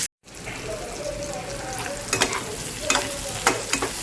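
Onions frying in a pan for matar paneer, a loud steady close sizzle with a few sharp utensil scrapes and clinks near the end.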